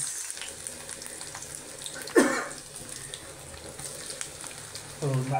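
Garlic drops into hot oil in a pan and sizzles, a steady close hiss with a brief louder splash partway through and faint bubbling, with no speech.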